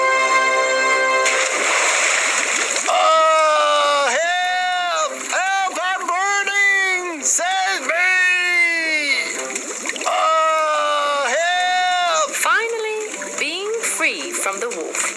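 A splash as a cartoon wolf drops into a bucket of boiling water: a short burst of watery noise near the start, then a narrator talking over the rest.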